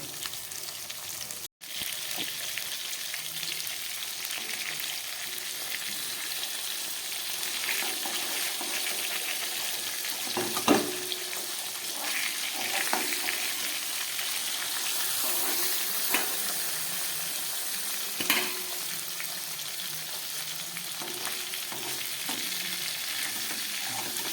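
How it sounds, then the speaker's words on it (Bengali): Pieces of Bhola fish fry in oil in a pan, a continuous close sizzling crackle with a few sharper pops and spatula knocks as they are turned, no talking. "মাছগুলো এক পিঠ ভাজা হয়ে গেছে, আমি উল্টে দিয়েছি।"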